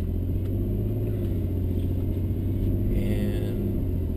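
Cabin drone of a Mercedes C32 AMG on a test drive, a steady low engine and road rumble heard from inside at cruising speed, with no talk.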